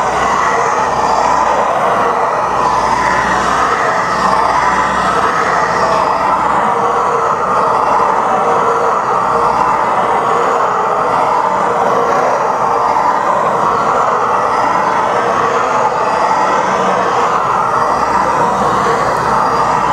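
Seat cutter working a Subaru EG/EZ3X cylinder head valve seat around a new guide sitting slightly off center, a continuous close grinding whir with an uneven rumble running unbroken throughout.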